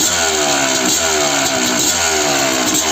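A Kawasaki KDX 200 two-stroke motorcycle engine revs loudly and close, its buzzing note rising and falling in repeated throttle blips with no talking over it.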